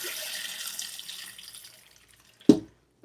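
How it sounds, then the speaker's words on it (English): Spinach leaves rinsed under a running kitchen tap: a steady broadband stream of water that gradually tapers off, followed by a brief louder splash near the end. "Okay, we're going to rinse that off"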